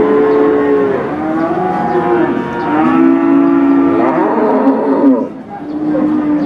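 Simmental and Limousin cattle at a Sunday livestock market in Pati give long, loud, close moos, several overlapping calls one after another with brief gaps between them.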